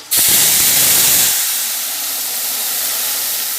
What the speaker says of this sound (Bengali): এই দেখুন লো তেলের মধ্যে জল পড়েছে তো তাই এরকম ধোয়া উঠলো